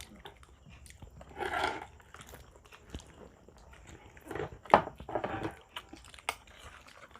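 Crunchy corn chewed close to the mic at a Filipino mukbang meal, a few quiet crisp bites and crunches in short bursts, with soft mouth sounds between them.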